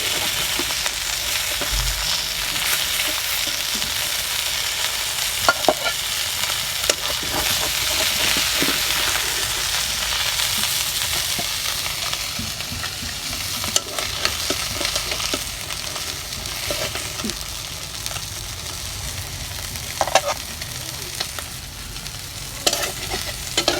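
Fish frying in hot oil in a home kitchen, a steady close sizzle with scattered pops and spatters, the occasional scrape of a turner.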